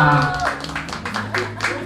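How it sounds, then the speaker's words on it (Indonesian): Audience clapping at a birthday celebration, a few seconds of scattered, moderately loud applause mixed with background talk and music. "tepuk tangannya"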